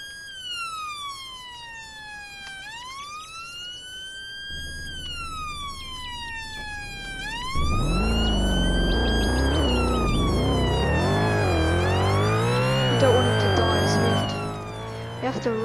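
An ambulance siren in a roleplay video game wails in rising and falling sweeps, loud and close, with a deeper engine or traffic rumble joining partway through.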